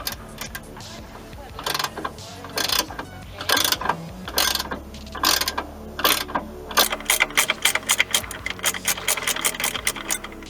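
A ratcheting box wrench clicks as it loosens a rusted rear shock bolt on a third-generation Toyota RAV4, first in slower uneven strokes, then in a quick steady run of close, sharp ratchet clicks.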